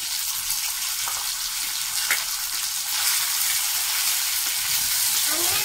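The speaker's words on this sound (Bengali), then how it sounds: "এখন যেটা আমি বেটে রেখেছিলাম সেটা পুরোটাই কিন্তু আমি এই কড়া তেলের মধ্যে দিয়ে দেব" Ground bottle gourd leaf paste frying in hot oil in a karahi over a strongly burning clay stove, a loud steady hissing sizzle with occasional small pops and clinks, close by with no clear talking.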